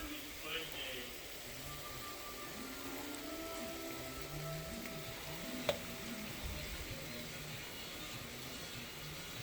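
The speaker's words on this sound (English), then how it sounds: "I just added the onions because my husband likes them nice and sauteed" Onions sautéing in a pan, a quiet, steady sizzle running throughout with a single sharp tap partway through, under low background noise.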